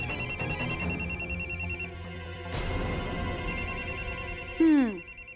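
A telephone rings with a warbling electronic bell tone in repeated bursts, loud and close, broken by a brief swoosh and ending with a falling sweep, as in a dramatic TV serial scene.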